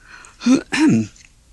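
A narrator voices a storybook bear's small cough, two short throaty bursts close to the microphone, made by a human voice imitating the sound.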